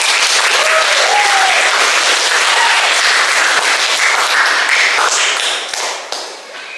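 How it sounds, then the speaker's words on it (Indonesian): A crowd at a school group presentation bursts into loud, dense applause that holds steady for several seconds and then thins out toward the end. "mari kita beri tepuk tangan yang meriah untuk kelompok 2"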